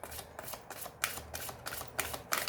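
Tarot cards being laid one over another in a reading, a series of close, soft papery slaps and brushes in an uneven rhythm with no talk.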